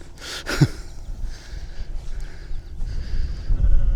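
A sheep bleats loudly near the start, followed by quieter farmyard ambience with some rustling and a low rumble toward the end, at Warbstow Bury Iron Age hillfort in Cornwall.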